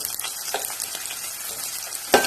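Chopped capsicum sautéing in a pan for a chickpea curry, giving a steady broadband sizzle with a few soft stirring scrapes and a sharper clack near the end.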